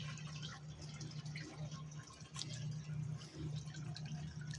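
Water drips and trickles steadily at close range in a hydroponic NFT growing system, with a low constant hum running underneath.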